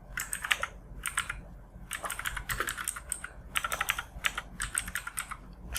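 Bangla text being typed on a computer keyboard, heard as steady clusters of crisp key clicks with short pauses between bursts, close and clear against a quiet background.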